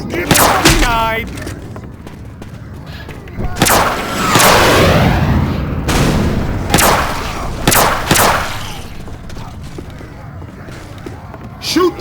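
Gunfire in the Left 4 Dead 2 game, played on a modded version of The Parish map: heavy, booming shots go off in irregular bursts with rumbling echoes, while players' voices talk over the action.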